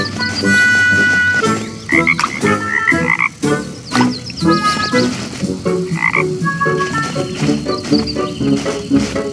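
Frogs croak in the Leo and Tig forest video game, with repeated rhythmic croaks over layered game music and sound effects, loud and continuous for several seconds.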